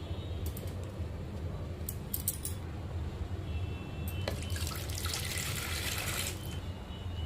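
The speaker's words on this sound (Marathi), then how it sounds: "आता मी यांना स्वच्छ पाण्याने धुवून घेणार आहे।" Cauliflower pieces are washed under running tap water, with a steady low rush of water, light splashing and a few small clicks, and no talking.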